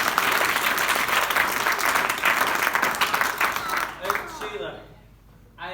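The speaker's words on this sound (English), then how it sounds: "round of applause for Sheila," Wedding guests at a best man's speech applaud the bridesmaid with a dense burst of clapping. It fades out over a few seconds before a voice starts speaking.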